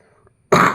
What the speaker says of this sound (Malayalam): കഫക്കെട്ടൊക്കെ ഉണ്ട്, ചുമ ഇടയ്ക്ക് വരും